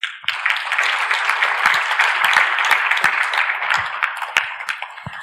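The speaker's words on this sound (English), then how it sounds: "So a round of applause to them." Loud, dense applause from a seated crowd at an awards dinner welcoming a band, a steady wash of many hands clapping together with a few sharper claps standing out, sustained throughout.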